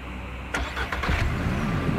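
Car engine cranking and catching in the farm game Ranch Simulator, a short starter whir followed by a steady low idle rumble, close and alone with no talk.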